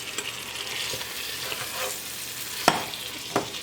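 Potatoes and fried onion being stirred together in a pot for egg biryani, giving soft scraping and a gentle sizzle with a couple of sharper knocks from the spoon against the pot, all fairly quiet with no voice.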